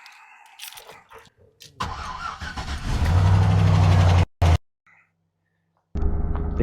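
A rough, previously wrecked and totaled pickup truck with a 5.3 engine, heard as a mid-pitched engine that turns over and runs up loudly, cuts out abruptly, then picks up again after a short silence.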